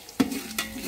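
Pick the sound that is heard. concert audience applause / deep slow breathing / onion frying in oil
onion frying in oil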